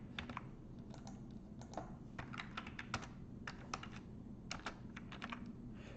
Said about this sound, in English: I'm just typing this up from Stack Overflow.